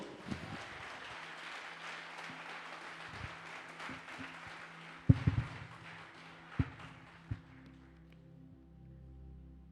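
A church congregation applauds their Lord during a worship service, a dense wash of clapping that swells and then gradually fades over several seconds, broken by a few louder thumps and taps near the end.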